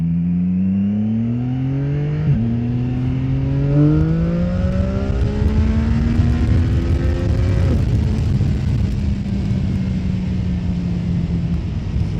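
A CF Moto 675 motorcycle being ridden hard, its engine note climbing through gears and then blipping sharply on rev-matched downshifts, loud and close with wind roar throughout.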